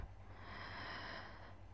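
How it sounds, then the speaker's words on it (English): An injured person in a Minecraft roleplay breathes heavily in one long, rough, hissing breath, close and fairly quiet, with no talking over it. "He's breathing heavily."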